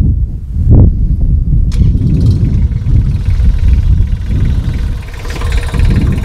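Engine of a 4 inch water pump starting in Fairbanks, Alaska: a brief cranking burst, then it catches into a loud, steady close rumbling idle that runs on without pause.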